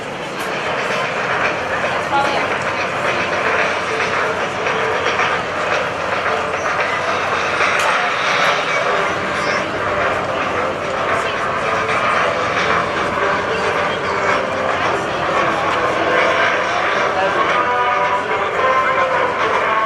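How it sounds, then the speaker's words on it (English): Navy F/A-18 jet making a cluster bomb attack pass at an airshow, a loud continuous roar of jet engine noise sustained throughout with broad rushing texture, an announcer's voice faintly present beneath it. "From the right, your F-A-18 top cluster bomb attack."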